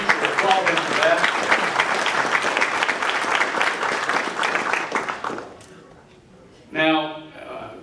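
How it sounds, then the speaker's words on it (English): Audience at a college ribbon-cutting ceremony for a health sciences building breaking into sustained applause that fades after about five seconds, followed by a speaker's voice resuming. "You should applaud him for that."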